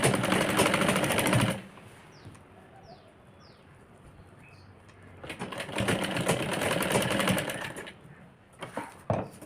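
A sewing machine runs in two long, loud bursts as it stitches the folded hem of a girl's crop top with thick basting stitches. Faint bird chirps fill the quiet gap between the bursts.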